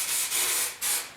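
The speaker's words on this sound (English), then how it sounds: "this is a new can, so I'm just going to spray it first" A new spray can of primer, readied for painting a 1972 Ford air cleaner, lets out two close, loud hissing bursts, the first longer and the second short, with no voices.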